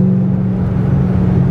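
A 2008 Ford Mustang Bullitt V8 driven in a gear held too low, giving a loud, steady, deep engine drone close up, with no voices.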